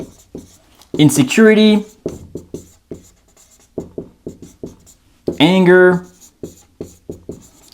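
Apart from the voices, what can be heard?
writing words on a board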